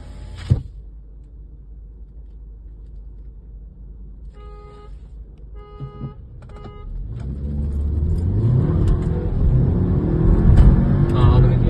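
Two Skoda Octavia 1.8 TSI cars, one Stage-1 tuned and one stock, launch in a drag race, engine roar building from a quiet idle into a loud, sustained acceleration after a few clicks and a brief beep.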